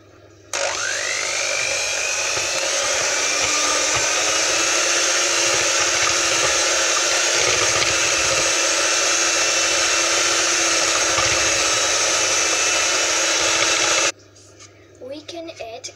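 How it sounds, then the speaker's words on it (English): An electric hand mixer beats dough for a sweet bake in a home kitchen, giving a steady, loud motor whine that holds for about fourteen seconds and then cuts off. "we mix it now."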